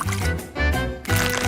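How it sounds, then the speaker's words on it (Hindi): Water is poured onto garden plants in a close, continuous splashing stream that fades briefly and then returns. "हमें बस इसे पानी देना है।"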